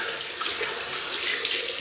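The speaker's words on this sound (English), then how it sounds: "just rinse my hands." Water runs steadily from a tap into a sink while hands are rinsed after a shave, giving a close, continuous hissing splash with no voices.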